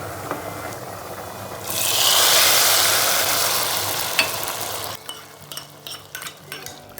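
Chopped chives tempered in hot oil and poured into a boiling pot of ash gourd Torbot Ooti, a loud sizzling hiss that swells then fades, followed by close clinks and scrapes of a utensil against the pot.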